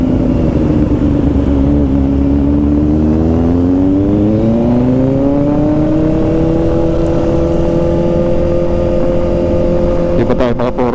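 A Kawasaki ZX-4RR motorcycle revs hard through quick-shifter and autoblip changes. Its loud, steady engine note slides down and climbs again in pitch, and a few sharp clicks come near the end amid a crowded outdoor setting.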